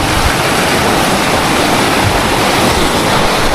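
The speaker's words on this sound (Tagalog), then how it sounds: "sobrang lakas ng alon dun" Loud, steady roar of strong ocean waves crashing on a beach in Real, Quezon, a dense broadband wash with no pauses and no voices.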